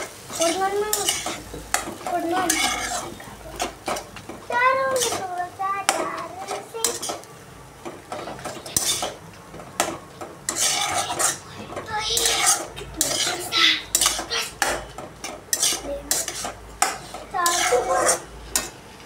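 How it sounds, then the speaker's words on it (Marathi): A utensil stirs noodles in a pan, clattering and scraping in repeated bursts while food faintly sizzles, close by, with someone talking over it throughout. "चला आता आपण हलवत राहू."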